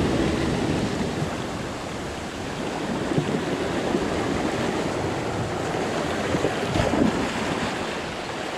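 Rough sea surging and breaking against a small fishing boat, a continuous loud wash of surf with steady wind noise on the microphone and a few heavier slaps near the end.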